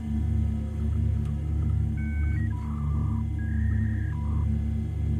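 In a haunted first-person shooter game, a dial-up modem connects with a series of shifting electronic tones and warbles over a constant low hum and drone, moderately loud with no talking.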